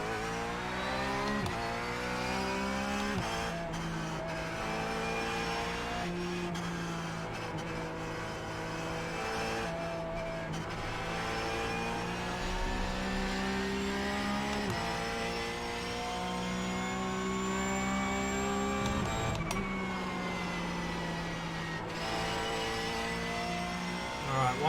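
A Porsche GT3 race car engine in the game iRacing roars continuously, revving up and down through gear changes over a long lap, loud and close with only brief dips.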